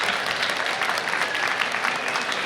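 Commencement audience at Harvey Mudd College applauding, a steady wash of many hands clapping at a moderate level, continuous and without voices for the whole stretch.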